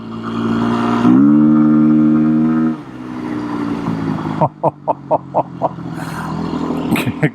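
Beta 390 RS dirt bike engine riding on gravel, a sustained revving drone that rises and holds, then a rapid series of sharp pulsing bursts, loud and close, with a rider talking over it.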